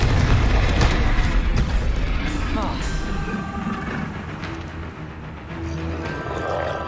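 Explosive Confringo spell blasts in the Hogwarts Legacy video game, with booming bursts and rumbling effects under a voice calling out spell names throughout.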